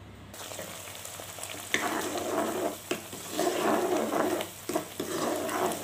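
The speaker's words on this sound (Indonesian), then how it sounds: "Kemudian bumbu ini kita sangrai lagi ya, atau kita gongso." Ground spice paste for yellow-spiced gourami is dry-fried and stirred in a pan, giving a continuous close sizzle broken by scraping stir strokes throughout.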